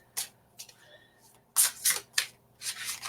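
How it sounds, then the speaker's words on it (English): A deck of playing cards being shuffled, heard as several short riffling bursts separated by brief pauses, fairly close and moderately loud, with no talking. "I just got told I need to shuffle the cards for a minute,"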